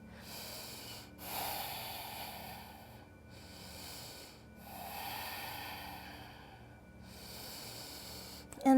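Slow, deep breaths during a lower-body power yoga stretch, each long airy inhale and exhale rising and falling in turn about four times, close and quiet with no talk.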